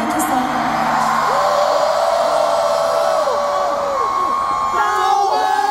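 A concert crowd in Chicago screams and cheers continuously at a steady level, with sustained whoops and shrieks rising and falling over a dense wash of noise.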